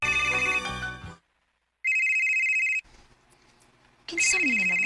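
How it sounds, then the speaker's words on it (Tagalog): A cellphone rings with a loud, repeating electronic tone in bursts, broken by a silent gap, then a short stretch of quiet room noise before the ringtone returns at full volume. "Bianca, kasaba ba ng cellphone ni mo, uy? Nagsige mo nagbagting"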